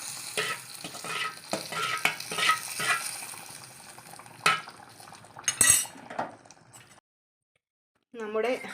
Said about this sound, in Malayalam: താളിച്ച് നമുക്ക് കറിയിലേക്ക് ഒഴിച്ചു കൊടുക്കാം.